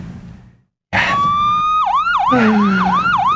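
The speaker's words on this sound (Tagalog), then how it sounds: "Tito Luis, it's the magic door" A magic door sound effect from a cartoon, made of a wavering, siren-like electronic tone that swoops repeatedly up and down after a brief silence, loud and continuous.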